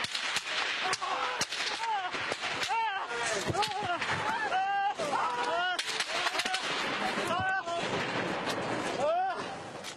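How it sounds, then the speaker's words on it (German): Repeated gunshots crack through a street in Cizre during a curfew, sharp reports scattered irregularly amid shouting and agitated voices at fairly close range. "Plötzlich fallen Schüsse."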